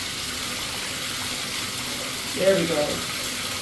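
Tap water runs into a bathtub in a Days Inn hotel bathroom in Morrow, Georgia, a steady close hiss throughout, with a brief voice speaking over it.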